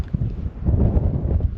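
Strong wind buffets the microphone outdoors at a remote location, a loud, continuous low rumble that surges and dips throughout.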